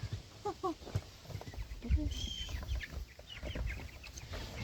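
Chickens in a flock of about 59 meat birds cluck and murmur close by in a barnyard, with occasional sharper squawks and some faint human voices mixed in.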